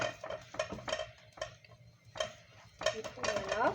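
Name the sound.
stirring a mixture in a bowl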